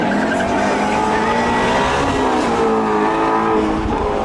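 A Tesla Model S and a Ford Mustang GT350 racing head-to-head on a drag track, a loud continuous engine roar with rising revving and tire noise, close to the microphone throughout.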